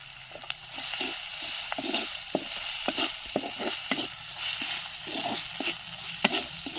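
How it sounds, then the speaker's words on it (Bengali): Ground spices with salt, chili, turmeric, coriander and cumin frying in a pan for a village-style mixed vegetable dish, a steady hiss broken by repeated spatula scrapes and taps. "মশলাটা ভাজা ভাজা হয়ে গেছে"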